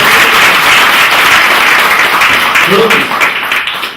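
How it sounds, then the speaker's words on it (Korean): Audience at a church seminar applauding, a broad, loud clapping roar that holds steady and then tapers slightly near the end, with a brief voice breaking through partway. "아낌없는 박수를 보내주십시오"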